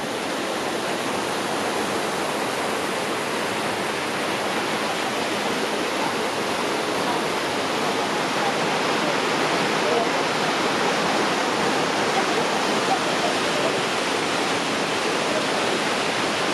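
A waterfall beside a coffee shop in a valley, running high with plenty of water, gives a steady, dense rushing roar that stays even and loud from start to finish with no pauses.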